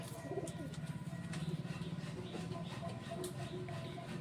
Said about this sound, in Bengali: এটা একটা নাসরা ম্যাডাস পায়রা রয়েছে